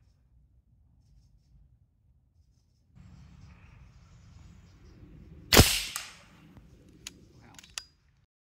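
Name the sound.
30 cal Alpha Wolf air rifle shooting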